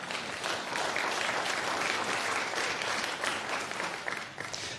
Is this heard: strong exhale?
no